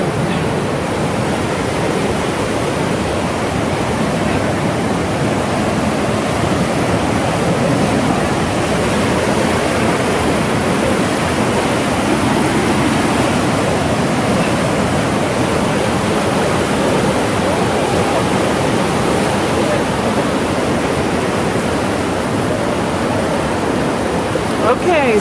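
A mountain river near Tahoe rushes over green serpentine rock, giving a loud, steady, close roar of churning whitewater that stays unbroken for the whole stretch.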